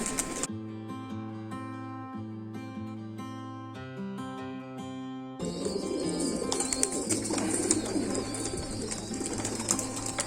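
Soft coos from high-flying pigeons against background music, which grows fuller and busier partway through; the cooing stays faint and intermittent.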